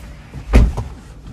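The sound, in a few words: Tesla Model 3 car door closing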